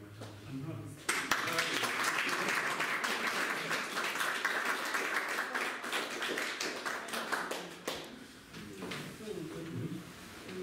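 Audience applause for a guest at a talk on free video, a steady wash of clapping that swells in after a second and rolls on for several seconds before thinning, with speech heard at the start and end.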